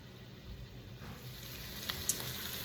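Meat begins to sizzle as it heats in a pan for chili, a faint, steady frying hiss with a couple of small pops and no talking.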